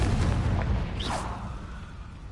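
The Confringo fire spell in Hogwarts Legacy bursts in a loud, rumbling explosion that fades across two seconds, with a brief whooshing sweep in the middle and no speech.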